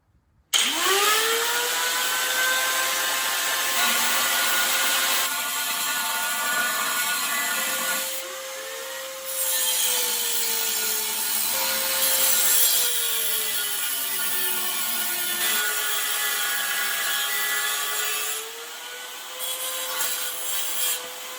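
A power saw cuts through a torque converter housing in a long, steady, loud whine whose pitch dips and wavers as the blade bites the metal, broken by brief pauses between passes.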